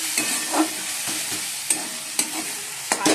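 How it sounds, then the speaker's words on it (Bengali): Fish fries in hot oil in a pan, giving a steady close sizzle broken by brief scraping and clattering stirs. "মাছটা ভেজে নিচ্ছি"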